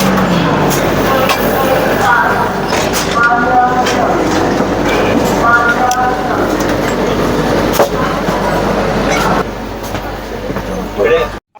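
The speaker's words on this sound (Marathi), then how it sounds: "तर आपण प्रवास सुरू करूया आणि ही ट्रेन आहे सकाळी सहा पन्नास वाजता" The 10115 Bandra Terminus–Madgaon Express on the Konkan Railway rumbles along steadily with a constant low roar, wheels and carriage rattle throughout, and occasional voices faintly under the noise.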